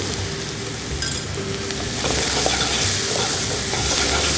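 Onions sauté in a pan with salt and turmeric for a black chana masala curry, giving a steady close sizzle with occasional stirring scrapes that grows slightly louder partway through.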